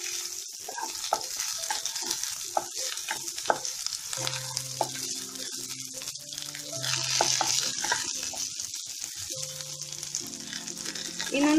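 Garlic and ginger roast in a hot pan with a constant bright sizzle, joined by scraping and clinking of a spoon against the pan as the pieces are stirred.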